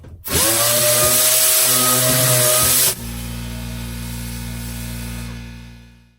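A Dynabrade random orbital sander whirs loudly at high speed for a few seconds, then drops to a steadier, lower hum as it runs on and winds down.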